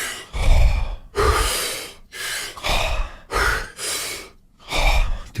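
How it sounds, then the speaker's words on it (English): Deep, forceful breaths in a breathing exercise: several long rushing inhales and exhales come close up one after another, each lasting about a second, with brief pauses between them and no talking. "and then you exhale and just relax"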